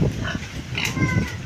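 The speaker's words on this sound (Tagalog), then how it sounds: "Ito na po ang aming alagang biik." Five pet piglets, weaned a week, squealing and grunting up close in short overlapping bursts, with brief high squeals standing out over a steady farmyard murmur.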